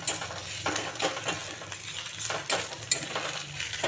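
Boiled leaf paste stirred into onions and garlic fried red in a pan: soft sizzling with scraping spoon strokes against the pan, close and steady, no talk.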